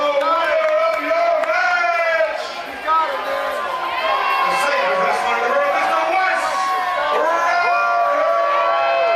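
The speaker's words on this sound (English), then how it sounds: "An eruption from the Hardywood crowd" A pro wrestling crowd at Hardywood erupts after a finish, loud sustained cheering with whoops, yells and shouting voices filling the room throughout.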